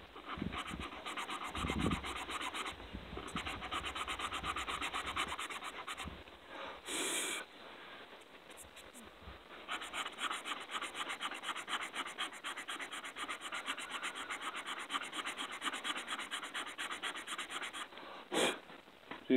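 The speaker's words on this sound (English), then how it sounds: "This little spongy. And I'll just start working the ends of it. Sanding on it. Smoothing them off." A sanding sponge works the cut edges of a leather 9mm pistol holster, giving close, steady scratchy rubbing strokes in long continuous runs with a brief pause partway through.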